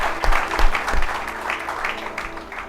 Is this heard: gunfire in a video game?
no